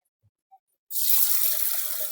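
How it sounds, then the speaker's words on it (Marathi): After a near-silent moment, water gushes steadily from a tap or vessel into a cooking pot of lentils for dal, a close, continuous rushing pour that keeps going to the end. "आता त्याच्यात पाणी टाकू."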